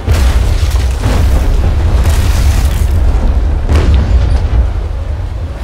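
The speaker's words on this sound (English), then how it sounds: "And fire some more rounds into him here." Ship cannon fire in the age-of-sail naval game Naval Action, heavy deep booms rolling over a constant low rumble, with several louder blasts spaced across the clip and no talking.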